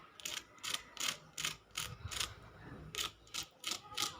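Crisp, crackly crunching of a fried vada in a series of sharp bursts, bite after bite at a steady rhythm, close and fairly quiet.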